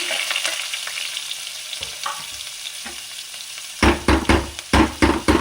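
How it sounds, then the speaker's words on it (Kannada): Finely chopped onion fries in a hot pan with cumin seeds for restaurant-style paneer tikka masala. A steady sizzle carries throughout, and from about the four-second mark a run of loud, close stirring scrapes breaks out in bursts. "ಈರುಳ್ಳಿ ಹಾಕ್ಕೊತಾ ಇದ್ದೀನಿ"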